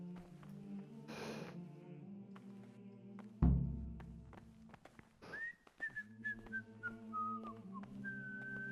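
Whistling from a character in the medieval video game Kingdom Come: Deliverance, a clear sliding melodic tune that starts mid-clip over low game ambience and steady background music, alone without talk.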